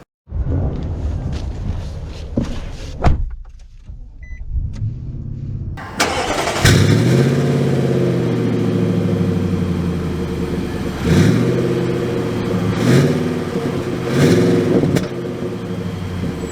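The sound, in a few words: 2023 Nissan Titan SV pickup truck starting and driving off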